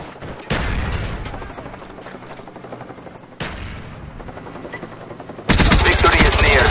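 Video game gunfire in Black Ops: loud bursts of automatic weapon fire and booming blasts that start abruptly, with a sustained roaring, hissing barrage near the end, heard alongside a helicopter-like rumble and announcer-style game voices.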